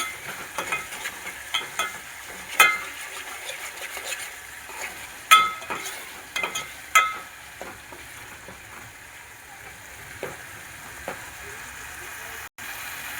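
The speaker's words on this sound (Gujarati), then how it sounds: "હવે ડુંગળી ટમેટાને છેડવા માટે આપણે થોડુંક મીઠું એમાં એડ કરી દેવું." Onion and tomato for Punjabi tadka sabji frying in a pan, with a soft steady sizzle under occasional sharp spoon scrapes and clinks as they are stirred; close but fairly quiet, and no one speaks.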